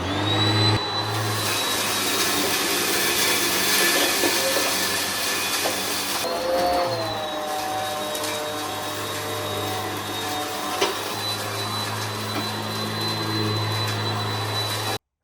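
A Sanitaire Tradition SC679K heavy-duty commercial upright vacuum cleaner runs on carpet with a loud steady motor drone and high whine, its pitch shifting briefly midway, then cutting off at the end.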